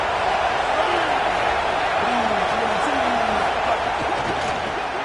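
Broad, steady crowd roar fills a football stadium during a game, a dense continuous wash of voices with scattered louder shouts rising above it.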